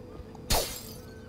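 A single sharp shatter of breaking glass in the video game Dishonored, one loud crash that quickly decays into tinkling fragments, set against quiet ambience.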